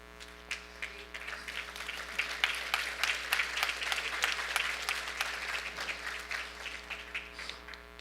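A church congregation claps together in a dense, sustained round of applause, fairly close and even throughout, with no talk over it.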